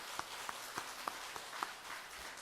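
A church congregation gives a short round of applause during a Sunday morning service. The soft, sparse hand claps are heard at moderate distance, with faint room noise between them.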